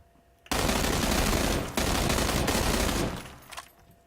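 Gunfire in a shooter video game: a dense, loud burst of rapid shots runs almost continuously for about two and a half seconds with one brief break, then dies away.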